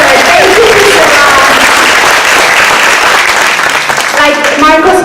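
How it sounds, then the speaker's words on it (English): At a community birthday celebration, the crowd gives Priscilla a loud, continuous round of applause, with voices audible over the clapping. "A big round of applause for her."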